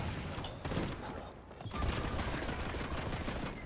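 Rapid bursts of gunfire from the shooter video game XDefiant crackle continuously, a dense, steady volley that swells slightly after a brief lull, with no talking over it.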